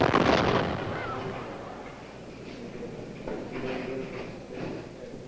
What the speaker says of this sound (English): they drag out their crazy homemade cannon to start things off with a boom